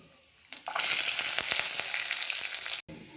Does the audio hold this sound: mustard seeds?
yes